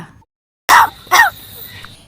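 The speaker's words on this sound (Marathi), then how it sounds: "तुझा खोकला अजून गेला नाही का" Two short, rough, hoarse calls like a crow's coughing caw, close and loud, after a moment of silence, followed by quiet background.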